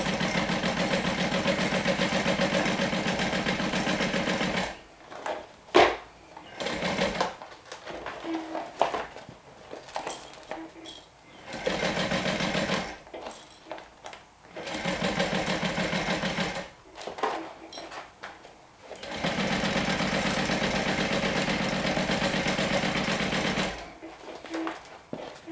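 A home sewing machine stitches a garment seam in several long steady runs separated by short pauses, its motor whirring evenly at close range with quieter handling sounds in the gaps.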